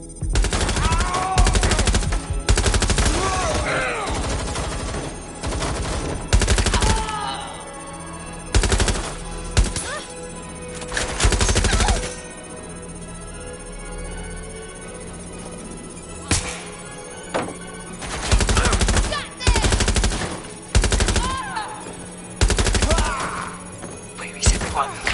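Turrets fire long bursts of rapid automatic gunfire in the video game Watch Dogs Legion, loud and repeated, with short pauses between volleys and a low hum underneath.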